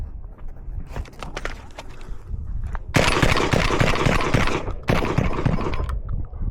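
VR80 shotgun fired at a shooting range: a few scattered shots early, then a rapid, loud burst of blasts mid-clip, a short pause, and another quick string of shots.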